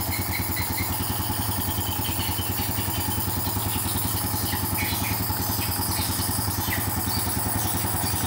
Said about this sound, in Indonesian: Nah ini motornya udah nyala